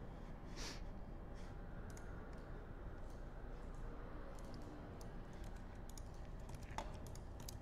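Text being typed on a computer keyboard, a faint run of light, irregular key clicks. Quiet throughout over low room hiss, with no talking.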